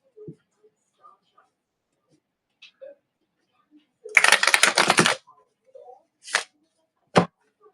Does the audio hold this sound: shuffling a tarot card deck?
yes